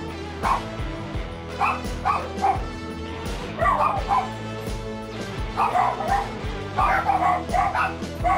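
Several dogs at a riverside pet kennel bark, yip and whimper in overlapping bursts throughout, fairly close and lively, with some background noise but no clear talk.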